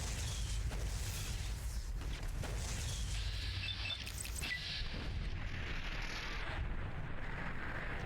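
Gunfire in Fallout: New Vegas: loud, continuous low rumbling blasts and booming shots fill the scene, with a dense, sustained roar and occasional sharper bursts throughout.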